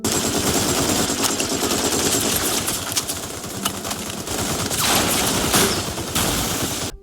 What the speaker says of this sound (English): We get machine guns blasting off.